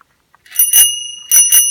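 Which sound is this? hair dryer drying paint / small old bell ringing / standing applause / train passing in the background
small old bell ringing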